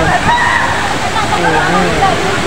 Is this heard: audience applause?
no